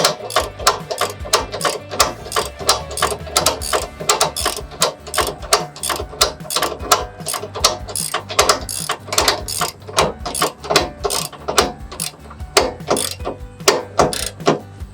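A ratchet strap on a Rail Ryder 2 car stacker cranked tight, a long run of sharp, rhythmic ratcheting clicks in quick repeated bursts, loud and close with no talk over it.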